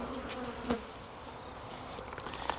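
Aggressive honeybees swarm close around a beekeeper working a hive, a dense continuous buzzing with a few sharper passes near the ear, loud and steady without any talk.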